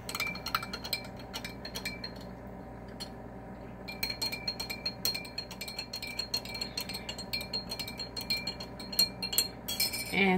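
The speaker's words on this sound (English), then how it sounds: "I'm going to give that a good stir." A spoon stirs mocha coffee in a glass, making quiet, rapid, repeated clinks and scrapes against the sides. The clinking runs continuously for about ten seconds with a soft steady background hum and no talking.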